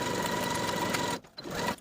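Steady, fast whirring of a sewing machine basting the waistband edges of a pair of shorts, running evenly and close by before a short pause and a brief restart.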